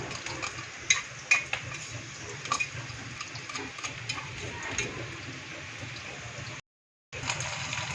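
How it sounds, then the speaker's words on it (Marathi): Onion sautéing in a pan for chicken kheema gives a soft, steady sizzle and frying hiss with light stirring clicks, quiet and close, and briefly drops out near the end. "एकदा कांदा परतून घेऊया."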